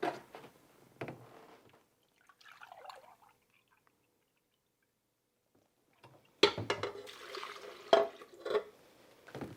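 Four cups of milk poured into a bowl for Oreo dirt pudding, with a few soft drips and splashes early on, then a louder burst of liquid pouring and sloshing near the end, close and otherwise quiet.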